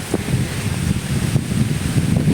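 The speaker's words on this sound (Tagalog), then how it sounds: "Hangin naman po." Steady wind buffeting the microphone, a low rumbling roar with gusty swells throughout and no voices.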